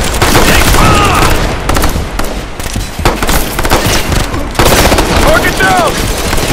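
Mounted machine gun fire in the Ghost Recon Future Soldier video game, loud dense automatic bursts with booming impacts and crackling gunfire throughout, nearby and continuous.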